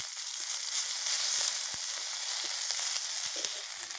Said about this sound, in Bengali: কেটে রাখা পেঁয়াজ নেড়ে দেব। এবারে দিয়ে দেব একটু আদা রসুন বাটা,